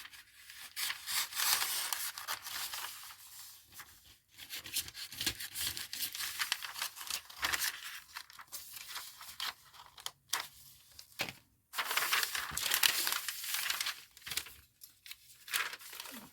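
A paper sewing pattern is handled and folded, giving repeated close crinkling and rustling bursts with brief pauses between them over several seconds.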